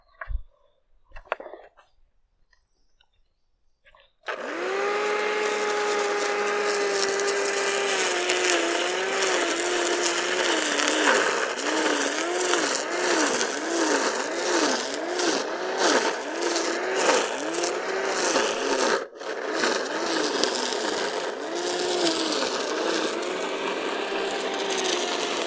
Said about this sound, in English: let's see what happens when we use this Mig Wire, welding wire, on the weed whacker